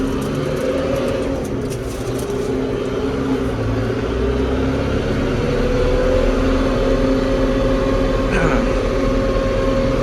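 A tractor engine, a new TD110, runs steadily while driving on the road toward town, a loud continuous low drone with no talk.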